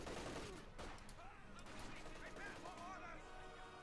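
Machine gun fire in Company of Heroes 2, faint bursts of rapid shots crackling in a busy battle mix beneath commentators talking.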